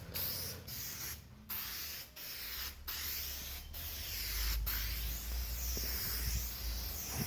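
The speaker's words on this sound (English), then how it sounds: "I'm gonna hit it with a guide coat, start spraying this on there" Aerosol guide coat hisses in repeated bursts onto the body of a 1978 Monte Carlo hardtop, each spray separated by brief pauses, close and steady over a low background hum.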